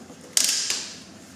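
Inside a small magnetic exercise bike, a sharp creaking click sounds once during pedaling, followed by a brief second tick and a fading hiss, close and isolated.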